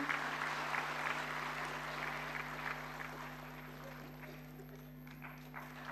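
Audience applause at an inaugural ceremony, continuous even clapping from a large crowd heard somewhat distant over a steady electrical hum, slowly fading toward the end.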